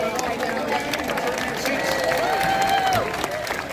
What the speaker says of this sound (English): Give them a big giant round of applause.